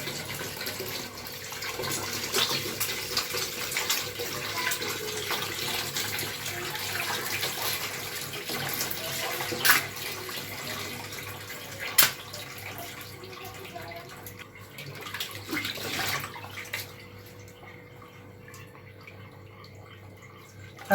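Running water splashes and trickles steadily while goat intestines are washed by hand, with occasional louder sloshes and drips before the flow tapers off near the end.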